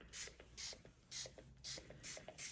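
Shimmer Spray bottle spraying in a series of about six quick, evenly spaced hissing bursts, each with a small click from the trigger, close and alone.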